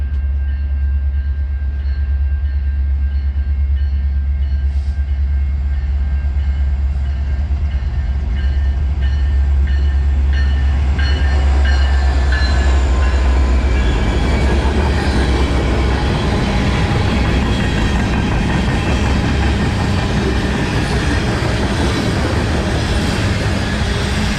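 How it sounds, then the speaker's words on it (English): A train rumbles steadily through a station in Fargo, North Dakota, with a low continuous roar that swells and grows brighter and noisier as the cars rush past nearby. "Oh, another train is coming."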